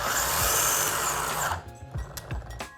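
Electric skateboard hub motor whirring loudly as it accelerates for about a second and a half, then dropping away into quieter braking whines and a few short rolling surges.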